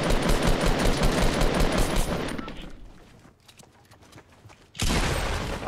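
Dense automatic gunfire rattles loudly in a Fortnite match, continuous bursts that thin out midway before a heavy volley returns, with no talk over it.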